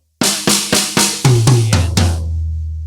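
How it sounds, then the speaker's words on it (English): A drum fill played on a kit, with four crisp snare hits in even succession followed by two lower rack tom strikes and two resonant floor tom hits that ring and decay, without any voices. "or 4 hits on the snare, 2 hits on the rack tom, and 2 hits on the floor tom."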